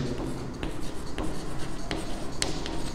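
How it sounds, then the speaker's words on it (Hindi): Pen scratching across paper while working a linear equations math problem by hand, close strokes with short quick scrapes and taps in an irregular rhythm, no voices. "तो मैं लिखता हूँ लेट"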